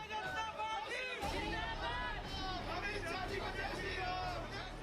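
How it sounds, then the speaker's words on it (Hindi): A large crowd gathered for Amit Shah's arrival in Kairana makes a dense, continuous roar of chatter and raised voices, steady and fairly loud throughout, with some voices rising above the mass. "ये भीड़, ये हुजूम, ये जोश,"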